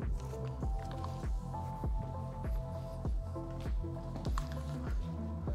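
Water rinsing cleaner off a dirty tyre, heard as a regular series of wet squishing, dripping pulses, roughly two per second, close up and moderately loud, with no speech.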